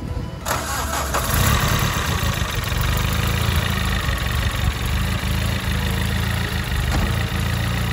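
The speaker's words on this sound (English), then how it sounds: "You want to just start the car for me, please?" A turbocharged Toyota 5A engine in a car cranks over and fires up, then settles into a steady, loud idle that runs unbroken with no talking.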